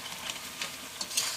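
Fish pieces are stirred into a pickle mixture in a pan, producing faint, soft scraping and light sizzle with a few small clinks of a spoon, close and quiet with no talk.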